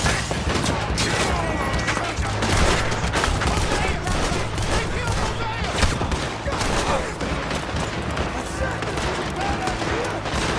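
Sustained video-game gunfight in Red Dead Redemption 2, with dense overlapping rifle and pistol shots crackling continuously at steady loudness, voices shouting over the battle.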